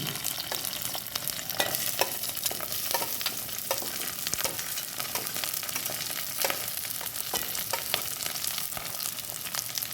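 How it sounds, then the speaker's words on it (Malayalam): Small chopped onions sizzle steadily in a pan for a Kerala fish curry, with frequent scraping stirs of a spoon or spatula cutting through the continuous close frying hiss and no talking. "കുറച്ച് കറിവേപ്പില ഇത് നല്ലതുപോലെ ഇളക്കി കൊടുക്കുക ഒരു ബ്രൗൺ കളറാവുന്ന വരെ ഇളക്കി കൊടുക്കുക"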